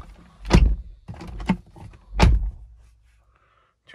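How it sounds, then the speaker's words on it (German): A BMW car door being shut: a couple of heavy thuds and a solid closing clunk close by, with quiet handling sounds around them and silence after. "Tür zu."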